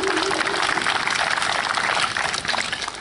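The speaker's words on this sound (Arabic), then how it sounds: "تصفيق من الجمهور." Crowd applause at a neighbourhood football tournament in Oran, a steady wash of clapping from many hands that carries through the whole stretch and eases slightly toward the end.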